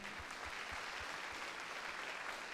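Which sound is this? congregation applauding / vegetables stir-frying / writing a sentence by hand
congregation applauding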